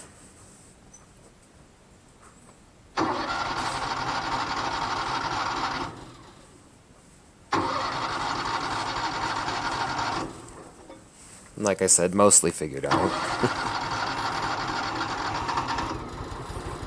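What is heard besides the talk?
wood chipper engine starting and running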